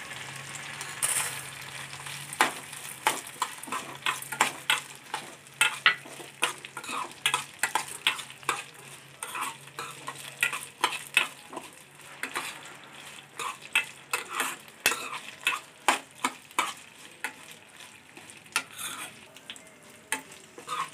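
Chana dal and urad dal fry in hot oil while a spoon stirs and scrapes them around a metal pan, giving a rapid run of sharp clinks and taps over a low sizzle.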